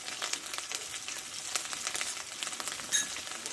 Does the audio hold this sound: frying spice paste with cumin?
yes